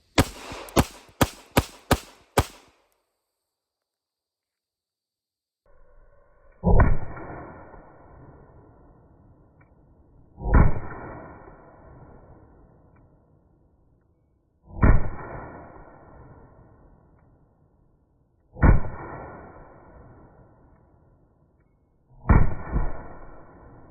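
Five loud pistol shots ring out at a slow, even pace with a pistol-mounted TLR1-HL clone weapon light fitted. Each sharp crack is followed by a rolling outdoor echo, and a quick burst of small clicks comes first.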